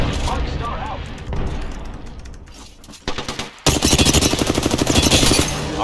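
Automatic gunfire in the video game Apex Legends, with loud rapid bursts that ramp up sharply in the final seconds, under team voice chat.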